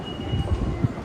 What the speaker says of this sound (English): Now, gotta catch the monorail.